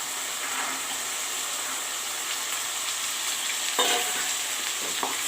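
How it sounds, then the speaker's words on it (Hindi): Onions and peas fry in a pan with a steady, close sizzle and a few scraping stirs of a spatula near the end. "प्याज के फ्राई कर दियो"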